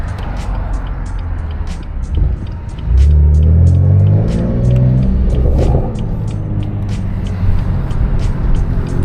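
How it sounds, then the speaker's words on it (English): BMW M4 inline-six engine in Sport Plus mode, heard from inside while driving: a steady loud exhaust rumble swells into a rising rev for a few seconds, then settles back to a throaty cruise with faint ticking over it. "in Sport Plus you guys could hear it really opens up, and you could really enjoy that inline 6 sound"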